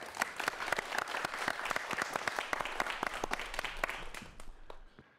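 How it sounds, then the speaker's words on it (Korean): An audience applauds to welcome the first lecturer at a virtual reality talk event. The clapping is dense and steady for about five seconds, then tapers off at the end. "박수로 환영해 주시죠"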